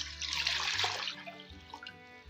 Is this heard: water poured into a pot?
yes